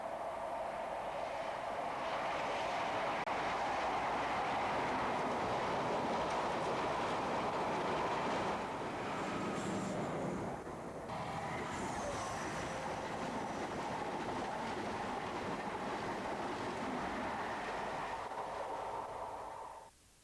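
An InterCity 125 high speed train passes with a steady, sustained rumble and rail noise lasting about twenty seconds, fading slightly near the end, with no talking.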